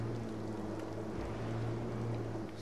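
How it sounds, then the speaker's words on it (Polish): A motorboat in the Far Cry 3 video game hums faintly at a distance, a low steady engine drone mixed with wind and water wash, no voices present. "i chyba motorówka."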